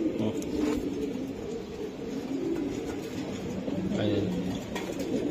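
Racing pigeons coo in low, throaty repeated calls close by, with people talking over them and a constant background hum.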